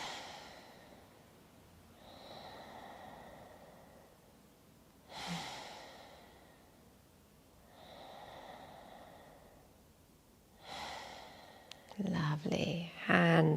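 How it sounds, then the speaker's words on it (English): Three slow, deep breaths during a gentle yoga session, each a soft, airy inhale and exhale at an even pace, close and quiet, with a voice beginning to speak just after. "take 3 deep breaths"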